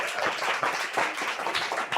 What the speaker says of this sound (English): Everybody, if you can give me a hand of applause